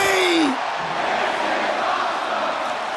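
Roaring arena crowd in the WWE 2K22 wrestling video game, a loud, sustained wash of cheering and shouting that swells after a brief falling whoop-like tone at the start and holds steady to the end.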